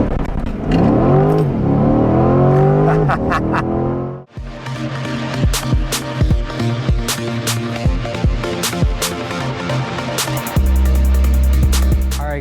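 C8 Corvette launching under launch control: engine held at revs on the brake, then a sharp roaring surge of acceleration with rapid gear-change blips, loud and close throughout.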